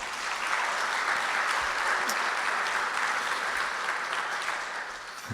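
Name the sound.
audience applause at a hall of fame ceremony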